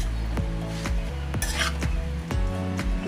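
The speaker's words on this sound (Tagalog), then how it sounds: "Ayan, so haluin lang natin ng maigi." Tofu sisig being stirred in a pan, a steady sizzle with regular scraping knocks of the utensil against the pan about every half second, close and clear.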